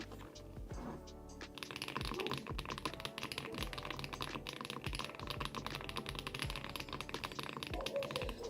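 A custom Balance 103 mechanical keyboard is typed on steadily, a dense stream of close, crisp key clacks and taps that continues alone without pause.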